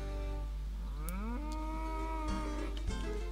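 Cattle in the farming game Agricultural Simulator 2013 moo in long, drawn-out overlapping calls near a milking area, loud and close over a constant low drone, with no speech.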